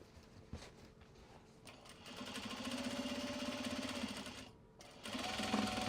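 A sewing machine stitches a Japanese fabric bag in steady mechanical runs, pausing briefly before starting up again, close and fairly loud with no talking.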